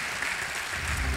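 Audience applause for an award winner receiving a trophy at a French-speaking ceremony, a short steady burst of clapping that carries on without pause.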